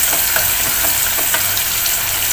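Chopped onions frying and browning in a pan, a loud continuous close sizzle with small crackles and pops scattered through it, no voices.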